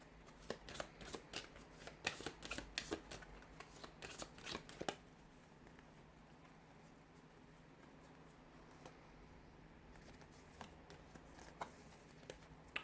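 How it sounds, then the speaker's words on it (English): Tarot cards are shuffled in quick, crisp riffling bursts during the first five seconds, then give way to sparse, faint card taps and handling noises over a quiet room. "I'm just going to start shuffling"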